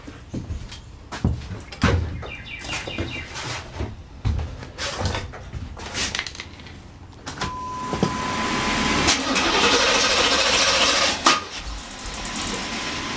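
A car with a side-post battery is cranked using a JFEGWO 8250A jump starter: scattered clunks and clicks first, then a sustained loud cranking drone that strains on for several seconds before stopping abruptly.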